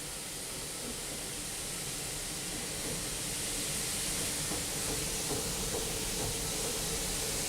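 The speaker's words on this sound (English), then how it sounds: "You can hear the steam going in the cylinders." Steady hiss of steam entering the cylinders of a GWR 0-4-0 steam locomotive as the regulator is opened, a broad continuous rushing noise that holds level and rises slightly toward the end, with no talk.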